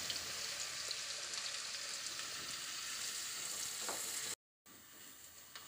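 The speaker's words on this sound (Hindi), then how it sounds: "ज़ीरा कुछ चटक जाता है तो इसके साथ ही मैं डाल दूंगी ये प्याज" Onion added to hot oil with crackling cumin seeds for baingan bharta, a quiet, even sizzle like light rain, with a brief silent gap near the end.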